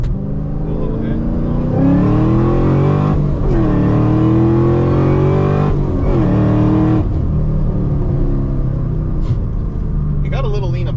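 A Chevrolet Camaro ZL1 engine, running lean up top and losing horsepower, revs loudly and close in repeated rising pulls and then drops back to a rumbling idle, with people talking over it.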